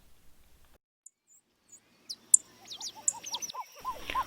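Songbirds such as orange-crowned warblers, golden-crowned sparrows and dark-eyed juncos sing along a lake trail, scattered faint chirps at first, then a quick run of bright descending trilled notes near the end.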